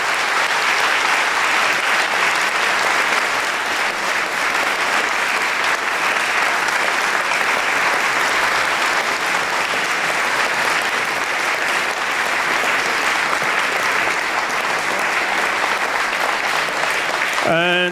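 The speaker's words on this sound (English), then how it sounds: "please join me in giving a big round of applause and thanking Fintan and Joris" Sustained audience applause after a talk on Brexit with Fintan O'Toole and Joris Luyendijk, a dense, even roar of clapping from a large hall that holds steady for the full length.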